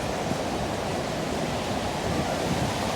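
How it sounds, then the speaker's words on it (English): Strong storm wind blowing hard through water and trees in Austin, a loud, dense, continuous roar with no gaps and no clear talking. "Ooh, look at all that wind, eh? Look at all that blowing, eh?"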